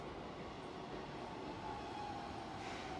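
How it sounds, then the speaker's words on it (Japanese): A six-car Keisei line local train pulls into a station, a steady rolling rumble of wheels and motors with a faint brake whine near the end, loud and continuous with no talk. "今も普通やってきましたが、これも6両編成です。"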